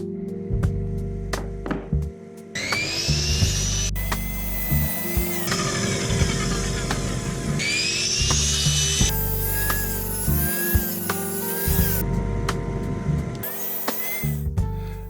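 A miter saw chops wooden blocks to size in a workshop, sounding as several loud, whining cuts in a row. Each cut has a spin-up and a rasping bite into the wood, with brief pauses between them.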